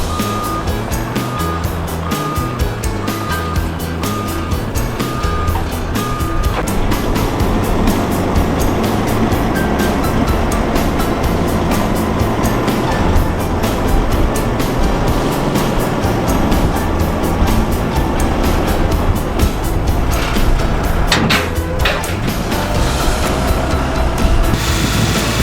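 A quarry dump truck grinds along with a heavy, steady engine drone while its gate is raised and loads are dumped on the move, with a repeated reversing beep early on and clattering debris.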